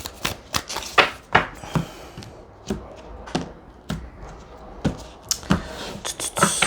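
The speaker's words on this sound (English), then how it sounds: "I'm going to shuffle." Tarot cards are shuffled by hand close up, making a brisk series of sharp riffling snaps and soft slaps at an irregular rhythm, with no voices.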